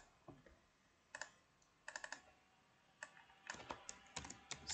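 Keys on a computer keyboard are typed in short irregular bursts of crisp clicks, close and fairly quiet, with pauses between the runs.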